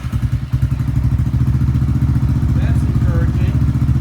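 A Suzuki LS650 motorcycle fitted with a carb kit starts and settles into a steady, loud single-cylinder idle with a rhythmic thumping close by, while a voice speaks briefly over it.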